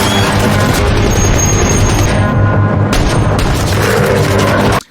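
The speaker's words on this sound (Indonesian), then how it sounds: "Drasa segera memberikan dukungan tembakan dari menaranya menggunakan senjata mesin berat, sementara Levi turut menembak dari sisi lain." Heavy machine gun fire from a tower in a film battle scene: loud, relentless rapid bursts blending into a continuous roar with heavy booming impacts, sustained for several seconds before cutting off abruptly.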